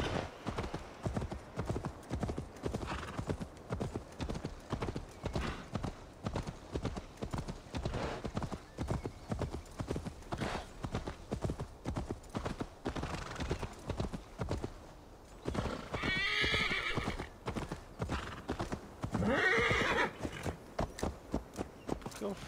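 A horse gallops in the video game Assassin's Creed Valhalla, rapid rhythmic hoofbeats clip-clopping close and loud, with brief snorting and whinny-like bursts near the end.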